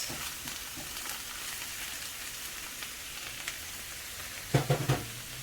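Meatless ground plantain simmering in a pan, a soft steady sizzle running throughout, with a few louder bubbling pops near the end.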